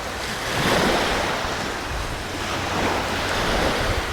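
Sea waves wash onto the shore in a steady, fairly loud rush, swelling twice as each wave breaks, with wind buffeting the microphone throughout.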